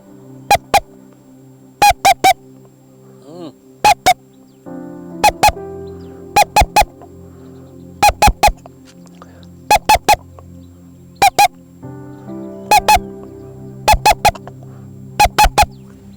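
A man mimics bird calls with his voice, giving short, shrill honking whistles in quick pairs and triplets that repeat over a steady background hum.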